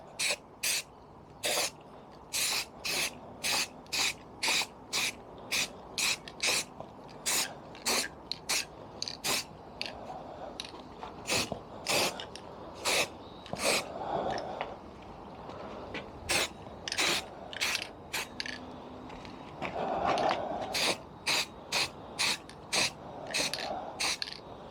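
Short repeated bursts from a spray can laying light coats of paint onto a Mobylette Motobecane X7 moped part, each hiss a second or less, evenly spaced and fairly close, with quiet gaps between them.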